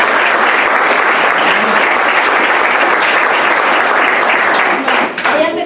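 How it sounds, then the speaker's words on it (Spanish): An audience at a whisky tasting event at a whisky museum gives sustained applause. The clapping is loud and dense and runs for several seconds before it thins out and fades near the end. "Un aplauso, por favor."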